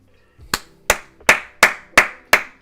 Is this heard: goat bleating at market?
no